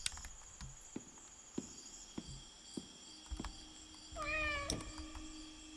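An orange cat in the video game Indigo Park gives a single rising meow near the end, preceded by soft regular padding footsteps over a quiet ambient background.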